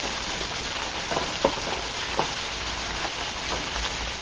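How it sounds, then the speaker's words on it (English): Steady hissing sizzle of chicken and mushrooms frying in a hot pan as chicken stock is added, continuous and close, with a couple of small pops and clicks breaking through. "You hear that sizzling?"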